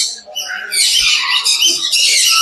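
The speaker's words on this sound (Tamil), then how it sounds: "இங்கே நிறைய ஃபுட்டுக்காக பேர்ட்ஸ் எல்லாமே அப்படியே ஜாலியாக இருக்கும்" Birds at Peeku Park in Yercaud chirp and squawk close by, making a dense, busy chorus of high calls that runs continuously through the short moment.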